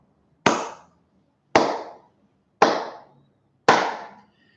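Four slow, deliberate hand claps, evenly spaced about a second apart, each a sharp close smack with a short decay, mimicking Angela Merkel's ironic applause after a speech, alone with no talk.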